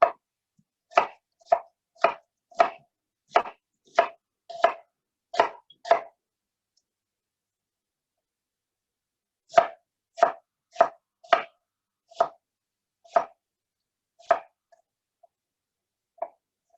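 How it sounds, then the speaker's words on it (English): A knife chopping onions on a cutting board, crisp evenly spaced strokes in two bursts of about eight cuts each, separated by a pause, close and clear with no talking. "Once you have your onions all diced up, you transfer them into the pot."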